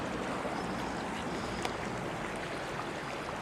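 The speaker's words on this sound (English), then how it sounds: "Check out this creek, guys, right behind our camper." A creek at Pagosa Springs RV Park flows right behind an RV camper, giving a steady, even rush of water that stays constant throughout with no talking.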